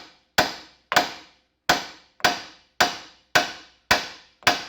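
Eight sharp metallic hammer blows on a car subframe ring out at a steady, slightly uneven pace, each strike loud and close with a short ringing decay before the next.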